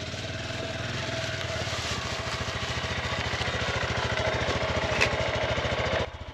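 A 2020 Honda Grom motorcycle engine runs steadily nearby with a rhythmic, chugging idle that slowly rises a little in level before dropping off at the end.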